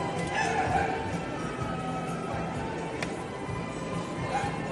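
Puppies yip and bark intermittently amid a busy, noisy background, with occasional thin whimpers mixed in.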